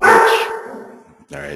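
Dogs barking loudly nearby at the start, a burst of yaps then fading, with a brief second bark at the end; someone speaks briefly over it.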